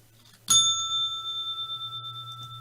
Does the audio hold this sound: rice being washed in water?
no